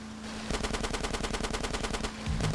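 Rapid automatic fire from an M4 in GTA San Andreas, a steady stream of shots for about two seconds, loud and close with no talk over it.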